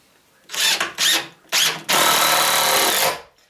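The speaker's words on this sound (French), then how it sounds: "Vous n'avez plus qu'à mettre une vis." A power drill drives a screw into the wooden post and plank of a raised garden bed, with two short trigger bursts, a brief third, then a longer continuous run of about a second, close and loud with no talk.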